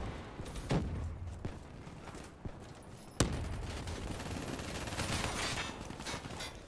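Gunfire rings out in Call of Duty: Black Ops III, with scattered shots early and then a sharp loud blast that gives way to sustained rapid firing and a dense battle din.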